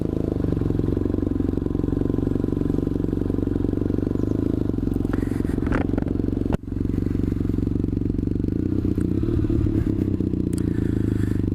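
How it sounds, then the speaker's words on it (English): Very fast sport motorcycle capable of over 200 mph, heard while riding: a steady, droning engine with heavy wind rush throughout and a brief thump partway through. "That bike is capable of well over 200 miles an hour."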